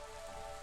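Rain falls steadily in the Against the Storm fantasy city-builder game, a soft continuous hiss of drops on surfaces, faint and even, with no voices.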